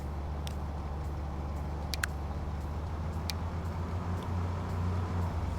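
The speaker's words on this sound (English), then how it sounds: "That's a tarpaulin truck." A tarpaulin truck in Transport Fever 2 drives along in a steady, low engine rumble with faint road noise, with a few brief high clicks over it and no voices.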